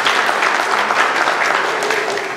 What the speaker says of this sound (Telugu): ఒక్కసారి అందరం చప్పట్లు కొట్టి, మీ అందరిని బట్టి మీరే చప్పట్లు కొట్టి దేవుడిని మహిమపరచుదామండి